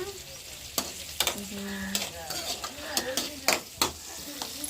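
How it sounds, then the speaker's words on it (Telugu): Chutney ingredients frying in a pan in a home kitchen, a steady sizzle broken by repeated sharp scrapes and clinks of a stirring spoon against the pan, close up. "చట్నీ కూడా ఫ్రై అవుతున్నాయి"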